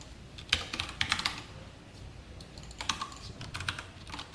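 Typing on a computer keyboard while writing code: quiet, close bursts of clicking keystrokes in short flurries separated by pauses, with no speech.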